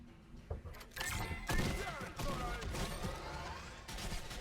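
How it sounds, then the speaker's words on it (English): A minigun fires in Fortnite, heard as sustained rapid bursts and thuds from the game mix, fairly quiet, with a voice talking over it. "Oh, I love that minigun."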